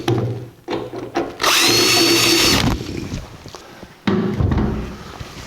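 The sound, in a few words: power drill drilling bolt holes in Jeep CJ7 tire carrier bracket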